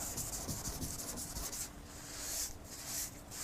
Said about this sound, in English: I apply it on the area and scrub.